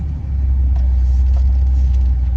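A BMW M5 F10 driving in Sport Plus mode, heard as a loud, steady low engine drone and road rumble from inside the car, continuous with no talking.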